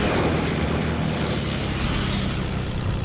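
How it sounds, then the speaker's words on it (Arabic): A steady, droning airplane engine roar in Fortnite with a propeller-like buzz, loud and continuous, holding the same pitch without pause. "هو ليه صوت الطيارة؟ ليه محرك الطيارة كده صوته"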